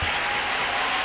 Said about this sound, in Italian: non siate avari di applausi questa sera!